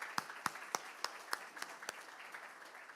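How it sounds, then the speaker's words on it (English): A few people at a supply chain summit clap faintly, with distinct claps about a quarter-second apart that thin out and soften toward the end. "So let's give Laura Cody a round of applause."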